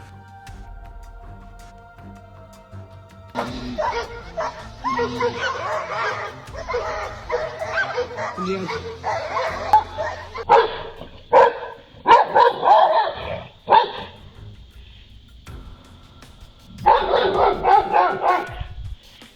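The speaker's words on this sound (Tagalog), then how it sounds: "Kaya pinagtatahol niya ito para lumayas." A dog barks and yelps at a black bear in loud, agitated bursts, close by, with scuffling and short pauses between outbursts; a brief voice speaks once.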